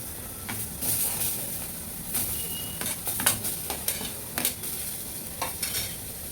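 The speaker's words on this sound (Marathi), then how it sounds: "आता मी टोमॅटोही भाजून घेणार आहे." Tomatoes frying in oil in a pan while misal is cooked, a soft continuous sizzle broken by louder bursts as a spoon stirs and scrapes, close and without talking.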